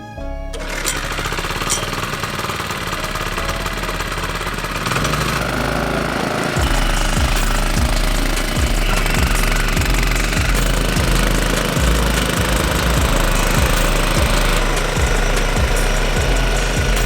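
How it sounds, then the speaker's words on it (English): A mower cuts a backyard golf green with a steady, loud mechanical drone close by. A rhythmic low thudding runs under it as the reel turns, with no talking. "let's freaking mow this green"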